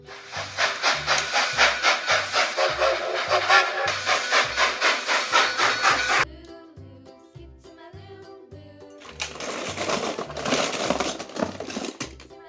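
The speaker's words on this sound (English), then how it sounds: "Steam locomotive." A toy steam locomotive chuffs in quick, regular pulses, falls quiet, then releases a long hiss of steam, all over a steady background beat.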